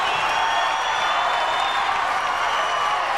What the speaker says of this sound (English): The crowd is into it.